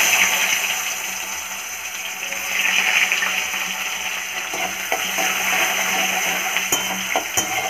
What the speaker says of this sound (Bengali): পেঁয়াজটা দেবো তেলে।